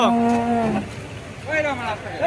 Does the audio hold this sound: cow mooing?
yes